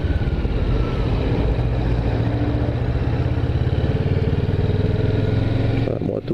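A motorcycle engine rumbles steadily in city traffic with a low clattering idle, close and loud throughout, with a voice faintly underneath.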